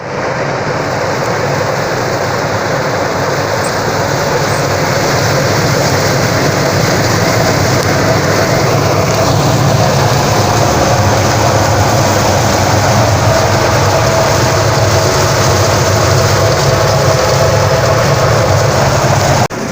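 A homemade grain winnower runs steadily, sorting grain with a continuous rushing, rattling hiss of kernels and air and a low mechanical hum, loud and unbroken throughout with no talk.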